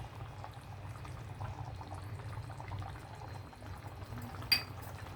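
Fish curry with raw banana simmers quietly in a pot, a faint continuous bubbling with one brief sharper clink near the end.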